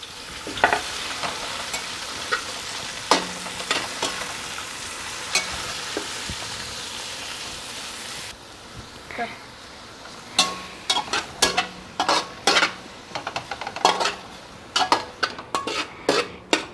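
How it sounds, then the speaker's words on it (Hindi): Tomatoes fry in a pan for potato pulao, a steady sizzle broken by sharp clinks and scrapes of a spoon stirring against the metal, growing more frequent and rhythmic toward the end. "अब हम इसमें टमाटर डाल देंगे और टमाटर को भून लेंगे।"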